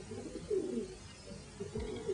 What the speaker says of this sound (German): Du scheuchst die Tauben durcheinander.